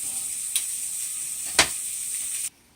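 Smoked brisket sizzles steadily in a hot pan, a constant bright hiss with two brief louder crackles as it is flipped, then cutting off abruptly near the end.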